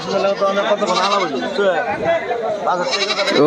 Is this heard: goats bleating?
yes